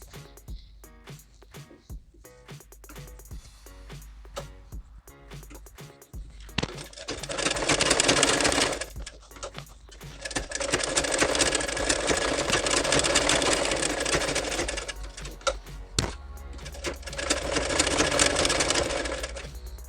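A sewing machine stitches a blouse back neck in three bursts of rapid, steady whirring, with quiet handling clicks and pauses between runs.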